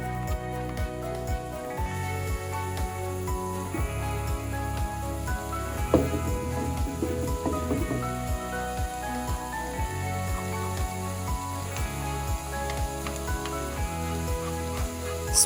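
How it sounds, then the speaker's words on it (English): Coarse spice mixture sizzling steadily in gently warm oil in a pan, a close, continuous crackle with a faint rhythmic ticking underneath and no talking. "When the oil is slightly warm, add the coarse mixture."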